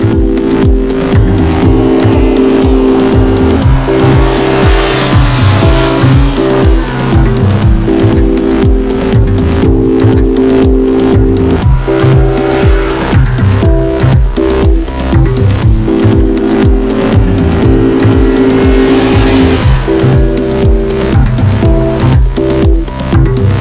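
Kawasaki Versys 1000 SE motorcycle ridden hard on winding roads, its engine droning loud and constant with steady revs and shifting pitch as it pulls through bends, recorded close with heavy wind rush.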